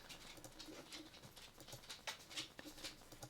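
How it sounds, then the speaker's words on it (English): A dog's claws clicking on an indoor floor as it walks around nearby, making faint, irregular taps over a quiet background. "I don't know if you can hear my dog ticky-tocking around me here"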